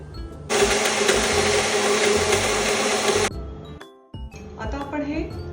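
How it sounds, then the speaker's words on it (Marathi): A kitchen mixer whirs loudly for about three seconds as it blends milk with three scoops of vanilla ice cream, then stops abruptly. Glass and spoon clinks and some talk follow. "आपण त्याच्यामध्ये हे व्हॅनिला आईस्क्रीमचे 3 स्कूप आहेत, तर ते आपण ह्याच्यात घालूयात आणि हे मिक्सरला फिरवून घेऊयात"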